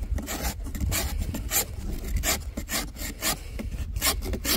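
A knife blade scrapes a green, freshly cut pine branch in a steady run of quick, dry rasping strokes up close, a continuous shaving rhythm with no voices.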